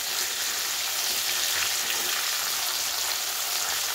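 Paneer pieces fry in oil in a pan over lowered heat, giving a dense, steady close-up sizzle that holds evenly throughout with no voices.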